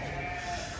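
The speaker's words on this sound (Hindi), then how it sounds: "और ये जी दुम्बे हैं इधर" A fat-tailed sheep bleats in a short, wavering call at a livestock market in Bishkek, heard at moderate distance against a busy background.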